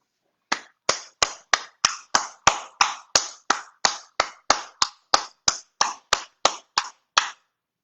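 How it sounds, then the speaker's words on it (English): Sharp, evenly spaced hand claps, about twenty in a steady rhythm, close and clear with no talk, offered as applause for the award winners at an October 2020 awards ceremony. "And a round of applause to all."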